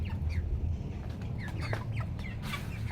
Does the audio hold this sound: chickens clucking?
yes